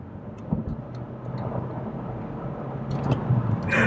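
A 2021 Kia Forte driving and picking up speed, a steady engine and road rumble heard from inside the cabin that swells slightly toward the end, with a few brief bumps and no talking.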